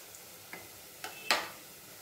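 Chicken biryani is stirred in a pot, giving a few faint, quiet scrapes and clicks of a utensil against the vessel, spaced out and growing slightly louder toward the last stroke.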